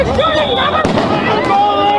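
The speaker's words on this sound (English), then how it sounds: "protesters lit fireworks, police firing back." Fireworks set off by protesters during a tense standoff with police, with one sharp crack bursting out over a loud, continuous crowd of shouting voices.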